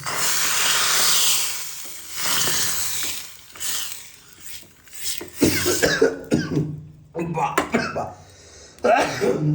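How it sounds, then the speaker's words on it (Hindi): Broadband hissing sizzle of hot oil tempering spices for raita, loud at first and then fading, with bursts of talk and a cough-like sound later on. "आब रायता के छौंकै छथिन"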